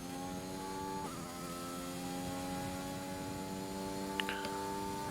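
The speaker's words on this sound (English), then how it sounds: "Here we are in the part where we're going full throttle." Race car engine at full throttle on the Spa circuit in Belgium, a steady high-pitched drone with stacked harmonics holding near and constant, one brief upshift step early on and a short whine near the end.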